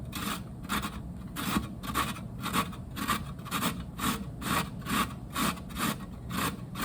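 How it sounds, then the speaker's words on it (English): Carrot being grated on the largest holes of a box grater: a steady run of about a dozen rhythmic rasping strokes, close and clear, with no talking. "I'm going to use a box grater, and I'm going to use the largest holes on the box grater."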